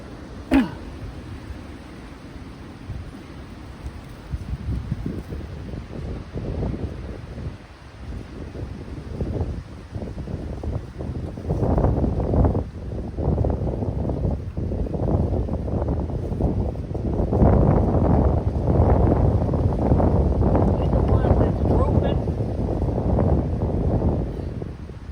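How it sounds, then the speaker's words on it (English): Strong outdoor wind buffets the microphone in heavy, uneven gusts that build over about twenty-five seconds, with louder rumbling bursts toward the end and no voices. "When I tell you it's windy, it is windy out here."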